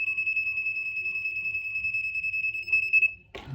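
A digital multimeter's non-contact voltage detector held near a live wall socket gives a steady, piercing electronic beep pulsing rapidly for about three seconds, then cuts off with a short handling clatter.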